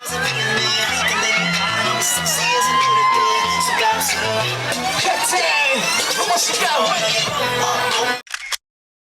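Large crowd shouting at a street protest in Thailand, loud and dense with overlapping yells, whoops and voices, sustained for several seconds before cutting off abruptly.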